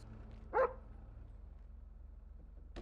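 A single dog bark at a police traffic stop, loud and close, then a fainter second yelp near the end over a low steady engine hum.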